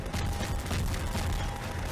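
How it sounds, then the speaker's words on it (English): Dense, continuous barrage of explosions and rapid gunfire from a Half-Life 2 firefight, loud and close throughout the short stretch with no pauses. "Ah, the explosions are too much."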